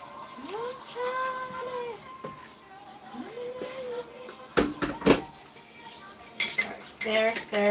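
A metal teaspoon stirs sugar into a cup of coffee in a home kitchen, with bright clinks against the cup in two short bursts. Faint meow-like vocal cries come earlier.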